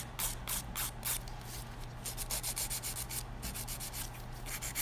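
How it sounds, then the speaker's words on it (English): Nail file rubbing back and forth across an acrylic nail, a rapid series of close, soft scratchy strokes in an uneven rhythm, quiet and without talk. "It's really interesting just filing this under the camera, two of them, and then just file it."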